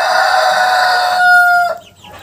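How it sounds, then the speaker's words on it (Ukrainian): Chickens and young chicks in a farmyard give a close, continuous run of clucking with a sustained crow-like call, fading out near the end. "самі маленькі курчата на моєму господарстві зараз оздолені."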